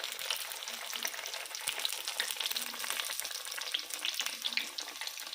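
Flatbread dough made with soured milk sizzles steadily in hot oil in a frying pan, a dense, close crackle that stays even throughout with no voices.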